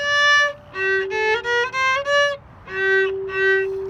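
Solo violin plays a short phrase from Bach's Minuet in G, bowed notes in a clear, steady rhythm with a brief pause before the last two notes, close and alone.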